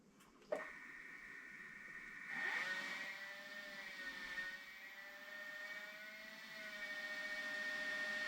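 A machine tool spindle on a lathe or mill runs at 500 rpm for a plunge cut on a small part for a scratch-built horizontal model steam engine, a faint steady whine with a quiet tonal hum, gently swelling as the cut proceeds.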